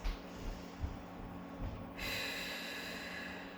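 Slow, deep breathing during a Pilates mat class, a few soft breaths drawn in and out close by, with a longer airy exhale near the end.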